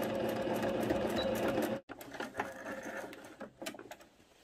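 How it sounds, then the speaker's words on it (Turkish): A sewing machine stitches a viscose skirt about 2–3 mm in from the edge, a steady close motor hum running continuously, pausing briefly near the two-second mark before resuming in bursts. "Şöyle bir 2-3 milim daha içeriden dikiyorum."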